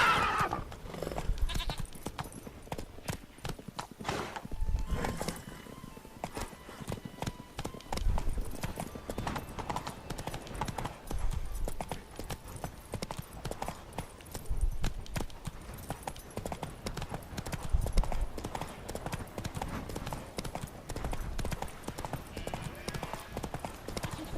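Roach, the horse in The Witcher 3: Wild Hunt on PS4, clip-clops along at a steady gait, hoofbeats fairly close and continuous under dense in-game ambience across the whole stretch.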